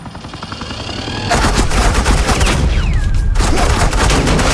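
Sustained suppressing gunfire in the video game Batman: The Enemy Within, a loud, dense burst of rapid shots that begins about a second in and keeps rattling, with a brief break before resuming.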